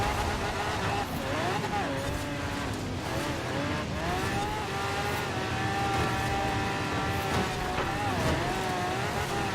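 A Hummer H1 Alpha Open Top Edition driven in the racing game Forza Horizon 4 holds a loud, continuous engine drone that rises and falls with shifting revs, with gear changes and throttle swells, and no voice over it.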